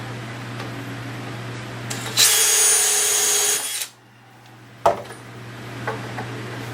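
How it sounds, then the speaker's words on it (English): A power drill whirs into wood of a garden planter for about a second and a half, then stops, followed by a sharp knock and quieter handling sounds. "Then we drill the second hole."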